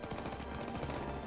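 Rapid automatic gunfire from the World War II shooter Call of Duty WW2 rattles in dense, continuous bursts that fill the whole moment with loud, close shots.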